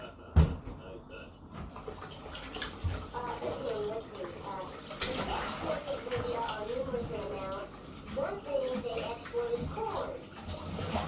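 Hands are washed under running tap water in a home kitchen, a soft continuous splashing and trickle at moderate distance, with a few cupboard-like knocks and a person talking over it.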